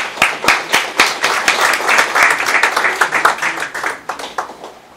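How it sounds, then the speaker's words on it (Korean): Loud, close applause from an audience at a launch ceremony, dense rhythmic handclaps with distinct individual claps standing out, holding steady for several seconds before tapering off. "뜨거운 박수 부탁드리겠습니다."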